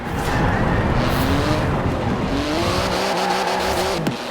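Twin-turbo 3.8-litre flat-six sports car with 700 horsepower in the video game Forza Horizon 4, its engine note rising and falling under continuous loud tire squeal and skidding, ending with a sharp downward sweep.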